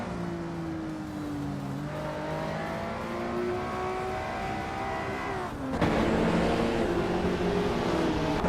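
Race cars roaring in a racing video game: a steady engine drone with rising pitch as gears climb, then a louder surge as another car pulls close and the sound thickens.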